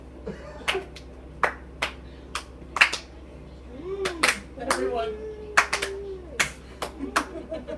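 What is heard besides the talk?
off-beat slow clap by group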